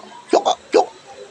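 A person hiccups three times in quick succession, sharp, close and loud, with two jerks close together and then a third after a short gap.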